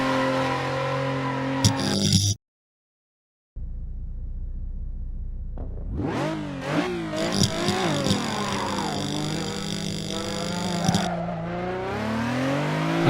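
A Nissan 350Z drifts in Assetto Corsa, its engine revving hard in repeated rising sweeps with tyre squeal, after a brief silent gap, loud and close throughout.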